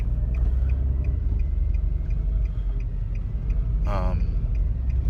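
A 2002 Nissan Altima 3.5 SE V6 idles roughly with a steady low, uneven rumble, close by. A brief whining chirp cuts in near the end.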